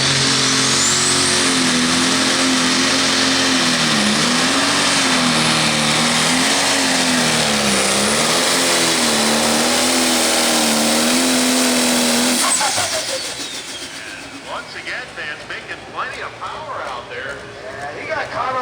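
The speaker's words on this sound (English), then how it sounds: "Tractor running really good." Pulling tractor engine roars at a steady loud pitch during a 10,000 lb pro pulling league pull at Hillsboro, Wisconsin, wavering slightly, then cutting off abruptly into rougher crowd and track noise.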